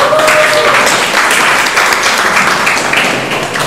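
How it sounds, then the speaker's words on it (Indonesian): Audience applause during an Indonesian panel dialogue on choosing wise leaders, a steady dense wash of many hands clapping at full loudness throughout, with a faint voice briefly audible near the start. "Kita beri tepuk tangan dulu kepada Bung Farai."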